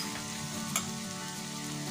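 Onion, chili and garlic paste with spices frying in a pan, a steady close sizzle with a small clink of stirring partway through, no talk.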